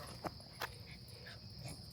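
A trained dog outdoors on a trail gives two short, faint yips, quiet and fairly distant against a steady insect-like whine, with no talk.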